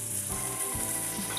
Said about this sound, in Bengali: এবার আমি সেদ্ধ হওয়ার জন্য পানি দিয়ে দিচ্ছি।